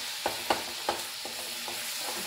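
Garlic and ginger paste hits hot oil in a tempering for dal, giving a steady bright sizzle with several soft stirring clicks and scrapes near the start, alone without talk.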